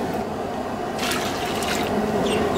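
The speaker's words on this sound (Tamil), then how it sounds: "இப்போ 6 படி அளவுக்கு தண்ணி ஊற்றணும்." Water poured into a large pot for a 6 kg wedding-style mutton dum biryani, a continuous close splashing rush that grows slightly brighter partway through.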